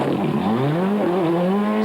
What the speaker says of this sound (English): WRC Escort of Patrick Snires blasts into stage 1